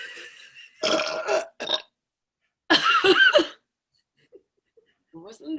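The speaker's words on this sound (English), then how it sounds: "It's really stressful when it's competitive burping." Two loud, drawn-out burps from a girl in a burping contest after drinking beer, close and raspy, separated by silence, with a short trailing vocal sound at the end.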